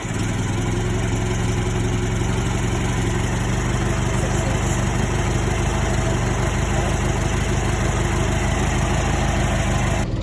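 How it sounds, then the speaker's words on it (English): A Model T Ford engine idles after a hand-crank start, a loud, steady low rumble that runs evenly and unbroken from start to finish, close by, with no talk over it. "use the crank to start the engine over"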